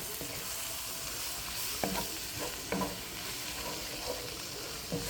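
Flour being stirred into vegetables in a pot for an oxtail stew, a steady low sizzle with occasional scraping clicks of the spoon, alone and close.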